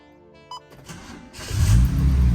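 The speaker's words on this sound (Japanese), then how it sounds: "必ず一発でエンジンがかかる。" A car engine starts: a key click, a brief cranking whir, then the engine catches and settles into a steady idle.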